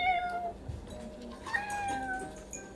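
A cat gives a couple of short meows, moderately close, against a low background hum with no talk.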